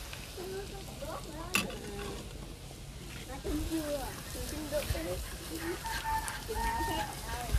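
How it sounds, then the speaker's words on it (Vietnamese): Garlic and chili fry in the oil left from frying chicken, a soft low sizzle with occasional stirring, while a voice talks over it and chickens or a rooster call in the background. "giờ mình lấy trái dầu mình chiên gà nãy mình phi tỏi ớt luôn"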